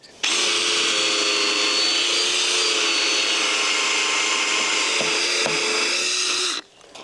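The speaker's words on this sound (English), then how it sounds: "Can I grab that drill off you?" A power drill bores a hole into wooden stairs during a stair rebuild, its steady high whine running unbroken for about six seconds at close range before cutting off abruptly.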